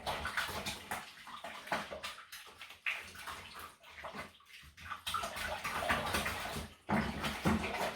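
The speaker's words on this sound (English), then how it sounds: "So I'm going to give it a good stir." Home brew golden ale wort is stirred with water in a fermenter, giving irregular sloshing and swirling water sounds in bursts with brief pauses, close and fairly quiet.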